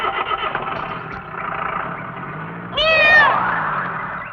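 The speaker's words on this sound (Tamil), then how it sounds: "முதலாளி பூனை குறுக்க போகுது" A cat lets out a single drawn-out meow partway through, heard over a steady engine-like rumble and background noise in a Tamil comedy scene.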